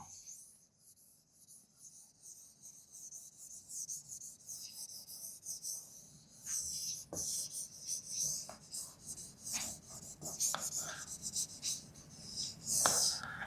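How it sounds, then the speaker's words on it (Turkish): Scratchy strokes of writing on a board in a classroom lecture, faint at first, then louder, quick and irregular from the middle onward, with no clear talking. "Elde edilen istatistikleri şöyle yazayım."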